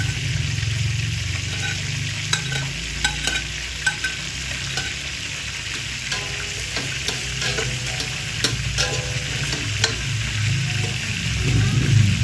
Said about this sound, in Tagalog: Sunod ko na po itong ating bawang.